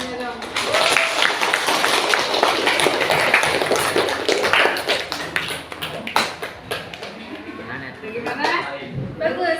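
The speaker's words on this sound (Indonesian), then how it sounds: "Oke, tepuk tangannya dong." An audience in a teaching session claps hands in a sustained burst of sharp, overlapping claps that thin out toward the end, with some chatter and light laughter underneath.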